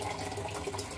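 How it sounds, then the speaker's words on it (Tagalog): Tap water runs steadily into a cooking pot for corn silk soup with corn, dried mushroom and cordyceps, a continuous close splashing flow with no talking. "lalagay na lang tayo ng tubig."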